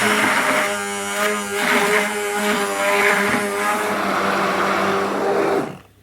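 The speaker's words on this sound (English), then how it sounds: "I'm literally going to take my stick blender, and that's going to go in" An electric stick blender whirring steadily while it mixes cold process soap batter of lye and oils, a loud continuous buzzing motor close by that runs for several seconds and then cuts off abruptly.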